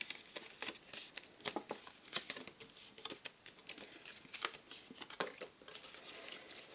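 A paper template for a tuxedo lapel is folded and handled close by, giving soft crinkling, rustling and patting sounds in quick irregular bursts at low volume.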